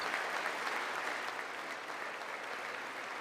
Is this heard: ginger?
no